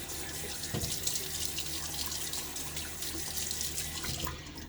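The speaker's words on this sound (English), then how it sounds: "A little pre-wash on my face." Tap water running steadily into a bathroom sink, heard close and continuous at a moderate level, with no voices, as the face is rinsed before a shave.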